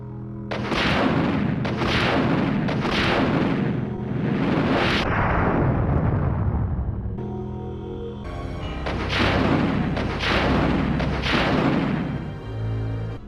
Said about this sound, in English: Alright, let's test out the rocket launcher.